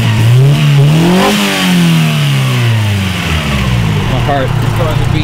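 Honda Civic with a B16 engine, cold-started after sitting with a dead battery, revving up and settling back, loud and close; the engine note rises and falls in a sweeping pitch with people talking over it.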